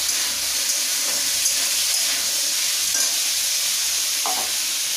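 Onion, potatoes and roasted chickpeas fry in a pan, with a steady close sizzle and occasional stirring scrapes running throughout, no voices.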